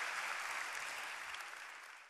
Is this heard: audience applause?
yes